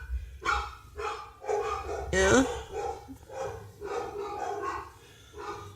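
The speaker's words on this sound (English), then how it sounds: "I think the dogs are excited somewhere." Excited dogs bark and yip in repeated bursts fairly close by, mixed with a person talking briefly over the noise.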